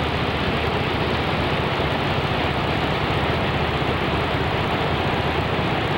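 Cornell fish pump at the Bonneville Dam, turned down to about 500 RPM, giving a loud, steady, dense mechanical roar and rumble that stays constant throughout, with no voices.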